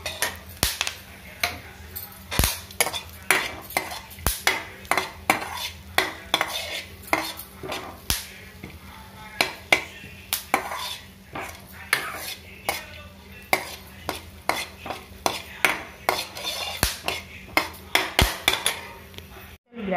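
Peanuts dry-roasting in a pan, stirred with a metal spoon that scrapes and clinks steadily against the pan, with irregular sharp taps and rattling throughout, close and fairly loud, no voices.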